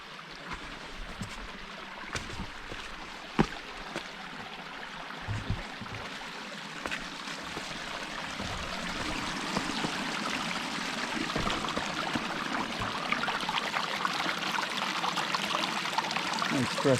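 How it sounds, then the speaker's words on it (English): A small waterfall and stream along a desert canyon trail make a steady, faint wash of running water, with occasional footsteps and light knocks close by. "There's a little waterfall over there."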